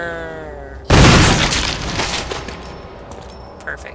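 Gunfire in Resident Evil Remake: one sudden loud blast cuts off a tonal hum, then a dense, crackling decay trails off over several seconds, with a small second pop near the end.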